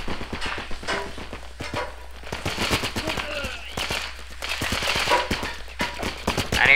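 Rapid bursts of gunfire crackle through a multiplayer match of the war game Running with Rifles, with overlapping shots throughout while players talk over the action.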